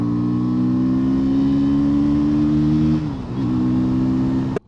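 A KTM Duke 160 motorcycle engine hums steadily while riding on a rough road, holding a smooth, loud drone, then dipping briefly and recovering before cutting off abruptly at the end.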